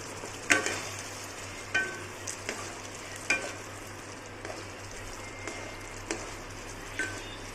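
Chicken kosha with garam masala frying in a pan over a gas flame, as a utensil stirs it with irregular scraping clinks over a soft, continuous sizzle, and nobody speaks.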